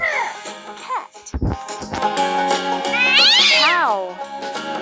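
A cartoon cat in a kids' farm animal stacking game meows in bright, close calls, a short clatter breaking in early before a longer rising meow near the end.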